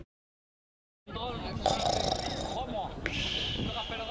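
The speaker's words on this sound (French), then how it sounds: "tu ronfles." A rough, rasping snore rises after a second of silence and keeps rumbling steadily, close and fairly loud.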